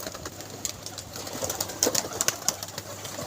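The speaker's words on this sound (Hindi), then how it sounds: "ये आया है कबूतर" A golden pigeon at a pigeon club is heard amid soft outdoor ambience, with faint coos and short bird sounds scattered through the background.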